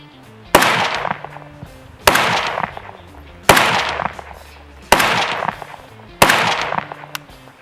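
Five loud, sharp rifle shots from an AK in 7.62x39 and a 300 Blackout, spaced about 1.5 seconds apart outdoors, each followed by a ringing decay, with no talking.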